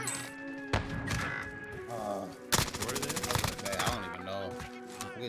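Video game gunfire crackles in bursts and rapid automatic volleys, loud and close, mixed with game effects and clatter.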